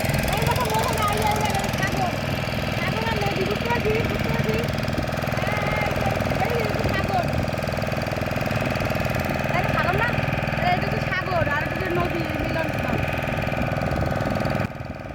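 A motorboat engine drones loudly and continuously on a river heading toward the sea at Talsari, with a rough, throbbing rumble and faint voices occasionally audible beneath it.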